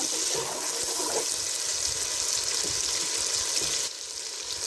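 Fresh ginger garlic paste sizzles loudly in a hot pan after a little water is added, cooking for a chicken and gobi dish. The crackle is steady and close, easing slightly toward the end.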